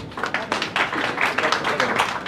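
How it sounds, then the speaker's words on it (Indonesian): An audience claps and cheers after a welcome to a guest at a gathering, dense and fairly close, with voices mixed into the noise throughout. "Tepuk tangan dulu dong buat beliau."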